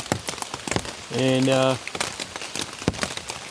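Drizzle drips off overhead leaves at a campsite in the Catskill Mountains, a dense patter of drops close around, with someone speaking briefly over it.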